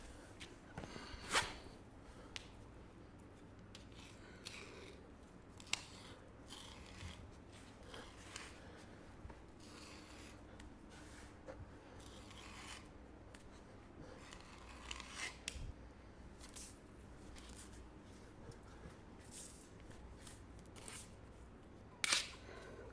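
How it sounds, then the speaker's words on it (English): Scissors cutting down a sheet in quiet indoor surroundings, with scattered crisp snips and rustling spread over the span, faint and close. "I'm just gonna cut down this whole sheet at my 44 mark"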